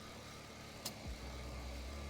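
A used car's engine idles steadily at low volume, a constant low hum with a brief click partway through, heard alone with no talk.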